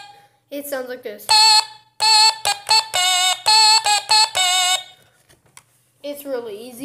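A stylophone plays a simple song in short buzzy, reedy notes with a bright, harmonic-rich tone, stepping between pitches in a quick rhythm, with brief talking before and after.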